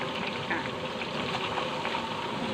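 Banana slices deep frying in hot oil give off a dense, steady sizzle and bubbling that runs close and loud without a break.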